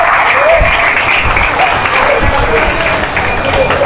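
An audience at a pigeon-flying competition prize ceremony claps steadily and loudly throughout, a dense continuous applause with a voice speaking over it.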